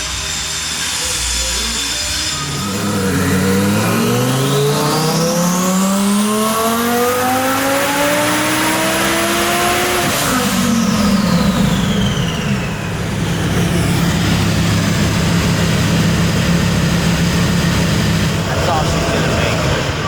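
A 1,500 whp rear-wheel-drive twin-turbo car engine revs hard, pitch climbing steeply over several seconds before dropping off, then rising again into a loud sustained roar, very close and dominant.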